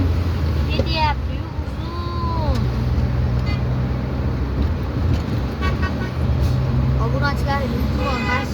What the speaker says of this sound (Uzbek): Mana bu yerda o'ta ko'p tirbandlik.